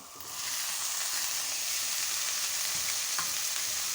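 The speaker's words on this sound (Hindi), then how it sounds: "इस स्टेज पे हम शिमला मिर्च ऐड कर देंगे।" Capsicum sizzling in hot oil with spices in a pan while chicken white sauce pasta is being made, a loud, steady frying hiss that holds throughout with no talking.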